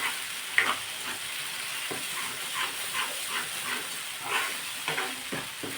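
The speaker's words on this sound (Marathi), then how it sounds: "तेलामध्ये मस्त असं हे परतून घ्यायचं आहे" Ingredients for a village-style mung bean curry sautéing in hot oil, a steady soft sizzle with scattered scraping stir strokes throughout, close and moderately quiet, no talking.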